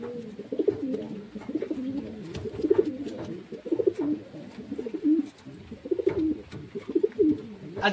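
Pigeons cooing in a home loft during rain, including two white birds, with repeated low throaty coos from several birds overlapping close by at a moderate level.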